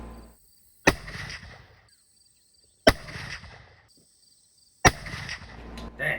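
Three sharp, loud muzzleloader shots fired with Barnes 290-grain TEZ bullets over 150 grains of Pyrodex, spaced about two seconds apart, each a sudden crack trailing into a brief rumbling decay with quiet between.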